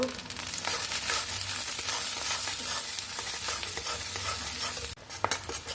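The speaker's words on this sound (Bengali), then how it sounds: "এভাবে এক এক করে সব দিয়ে দিব এটাকে একটু নেড়ে নেব" Kochur loti (taro stolons) with shrimp fry and sizzle steadily in a pan under continuous stirring, a dense frying hiss that cuts off sharply near the end before a few scrapes; no voices.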